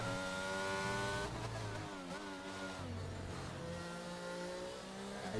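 A race car engine in a racing video game, loud and close, rising through the gears with sharp shifts and then pulling again in a steady, high-revving climb.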